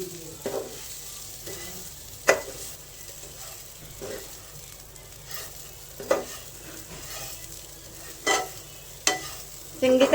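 Seviyan vermicelli being stirred and mixed in a pan, with a soft sizzle underneath and a series of scraping, clinking spoon strokes every second or two, close and clear.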